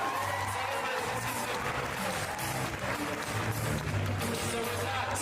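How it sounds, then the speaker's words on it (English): Guests at a cake-cutting celebration clap and cheer together, a sustained, dense wave of applause with scattered whoops and shouts that stays loud across the whole stretch. "So please, clap for yourselves"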